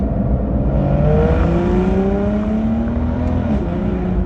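A 2009 Aston Martin DBS Volante with its 5.9-litre V12 revs hard in manual mode, the engine note rising in a steady, loud drone heard from inside the car.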